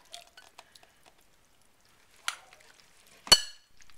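Utensils clink and scrape against a baking dish as a milk mixture is poured into a tuna casserole and stirred, with a few faint taps early on and two brighter clinks near the end.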